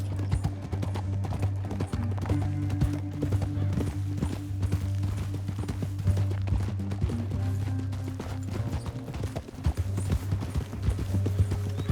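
In the video game Red Dead Redemption 2, steady horse hoofbeats clip-clop continuously over a low rumbling bed, with a few faint whinnies and background noise throughout.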